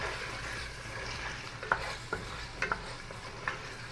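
Turmeric being stirred into garlic-ginger masala frying in a pot, a soft steady sizzle with a few scattered spoon scrapes and taps, moderately quiet and without talk.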